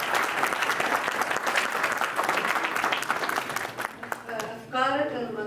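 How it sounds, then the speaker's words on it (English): Audience at an entrepreneurship club event breaks into steady, fairly close applause that holds for several seconds, then tapers off as a voice begins speaking. "Can we have a round of applause?"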